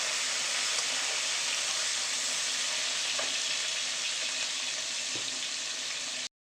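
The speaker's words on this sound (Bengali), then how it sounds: "এবার এগুলোকে ভালো করে নাড়িয়ে চাড়িয়ে নেবো, একটু নরম করে নেবো ব্রাউনিশ টাইপের" Fish head frying with Malabar spinach, chillies and onions in a pan gives a steady, loud sizzle, with faint stirring knocks now and then, until it stops abruptly.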